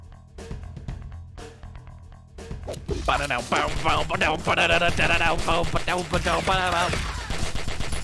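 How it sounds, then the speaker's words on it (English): Gunfire from the animated action film Killer Bean, several sharp isolated shots at first, then a dense rapid volley of shots overlapping loud music for several seconds. "Gunshot after gunshot."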